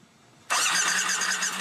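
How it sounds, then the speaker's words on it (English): A Harley-Davidson motorcycle engine bursts to life after a quiet moment and settles into a loud, steady, close-up running roar, with no voices. "Harley has a legendary sound"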